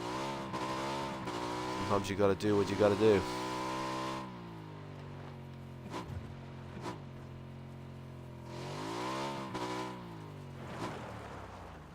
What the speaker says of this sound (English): you're making one hell of a racket flying around in a bloody motorbike